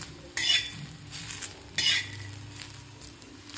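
Cluster beans are pressed flat and roasted in a pan, giving soft sizzling broken by several sharp scrapes and clinks of a spoon against the metal.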